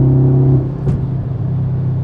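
An Audi RS5 with a muffler-delete exhaust drones with a deep, steady engine note, dips briefly, then settles back into a low rumbling cruise close by.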